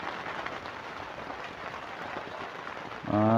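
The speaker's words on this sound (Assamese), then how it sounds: "বৰষুণ দিয়ে আছে একদম ৰাতিপুৱাৰে পৰা এতিয়ালৈকে।" Steady rain patters in a soft, even hiss, fairly quiet and close, before a brief electronic tone cuts in at the end.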